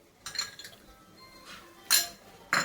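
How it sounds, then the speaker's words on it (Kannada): Spoon scraping and clinking against a pan while stirring a carrot burfi mixture with ghee, a few soft scrapes followed by two sharper metallic clinks, close and alone. "ಈಗ ಮಿಶ್ರಣವನ್ನು ಚೆನ್ನಾಗಿ ಕಲಕುತ್ತಿರಿ"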